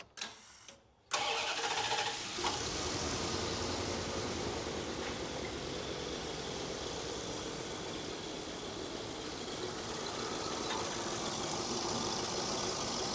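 The engine of a 1989 Dodge LE150, left sitting for years, cranks briefly, then catches and runs steadily at a loud, rough, mid-pitched idle that continues to the end without any talk.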